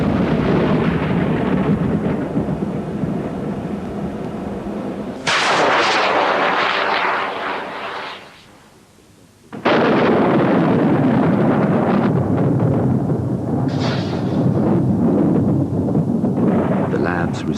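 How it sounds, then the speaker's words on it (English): A rocket launched to trigger lightning during a thunderstorm, heard as a loud sustained roar and rumble that breaks off sharply, drops to near quiet, then returns as a heavy crackling thunderous blast that rolls on to the end. "To trigger a strike, they must time the rocket launch perfectly."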